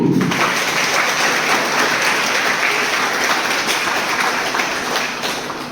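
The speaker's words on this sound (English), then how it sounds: "A huge round of applause for him too." A crowd claps loudly at a Harela Environment Week event at Anunaad Public School, a thick continuous roar of applause that holds steady and then tapers off in the last second.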